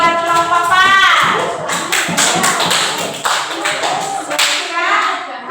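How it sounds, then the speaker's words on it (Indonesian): Classroom students clapping for a presenting group, a dense burst of hand claps that swells then settles into scattered taps, with children's voices mixed in. "Tepuk tangan lagi buat kelompok 4."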